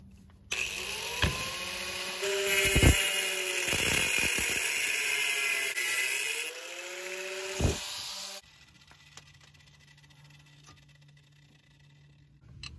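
A power cutting tool slices through a stuck suspension part on a 2012 Jetta under repair, loud whining bursts that rise and fall in pitch with sharp clanks, then cutting off into a quiet, faint hum.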